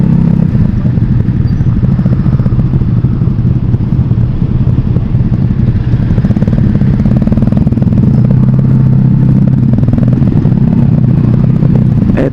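Continuous engine roar of motorcycles passing nearby, a steady loud rumble with no gaps for the whole stretch.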